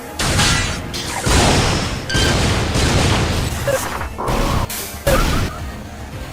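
Morph ball bomb jumps in Metroid Prime, a run of loud, booming blasts and crashing whooshes that follow one another almost without a break, close and full, with no voices.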